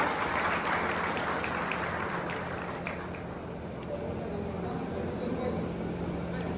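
Audience applause at an inauguration event, a steady wash of clapping from a crowd heard at moderate distance, continuing evenly throughout with some voices mixed in.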